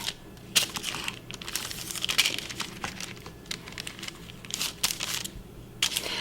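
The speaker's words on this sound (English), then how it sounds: "We're gonna use a pair of scissors to cut about 1 inch strips into the center." Scissors cutting strips into pastry dough for a peach cream cheese braided Danish: soft, close rustling crinkles and sticky snips repeat irregularly throughout at a moderate level.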